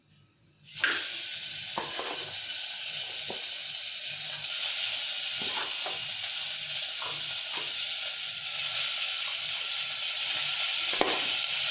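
Mutton hitting a hot pressure cooker and frying, a sudden loud sizzle that settles into a steady close hiss with occasional clinks of stirring.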